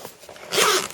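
A zipper being pulled open on a Planet Eclipse Geo2 paintball marker case, a close, quick zip that swells in the second half of a short moment.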